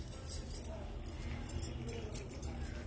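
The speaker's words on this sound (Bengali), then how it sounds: "এবার খুব ভালো করে কষিয়ে নেব।" Beef is stir-fried for white bhuna in a miniature pan over a tiny stove burning kerosene, candle and camphor, giving a steady, busy run of metallic clinks and scrapes that continues without pause.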